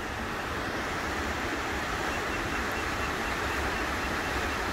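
A double waterfall pours into a turquoise pool beside an old flume tunnel on a river, a steady, dense roar of rushing water with no pauses, heard from a distance.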